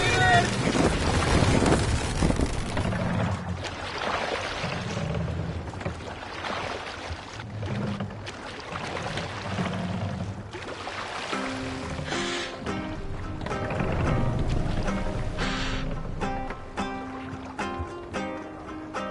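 A Viking longship sails at sea in Assassin's Creed Valhalla, with steady wind and water rushing beneath shouted crew voices, then music rising over the waves in the second half.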